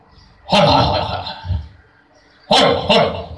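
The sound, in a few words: comedian imitating a dog barking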